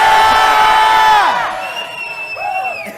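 A large convention crowd stands and screams out the names of their home states, a loud dense wall of overlapping shouts and whoops that fades after a second, leaving scattered cheers.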